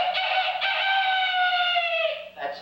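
A human voice imitates a rooster crowing, one long, loud, sustained crow that holds steady and then drops off, with a brief voiced sound at the end.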